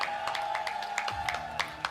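Audience applauding the third place winner at an Excel esports world championship event in Las Vegas: thin, scattered clapping from a modest crowd, continuous but fairly faint, with a low murmur beneath.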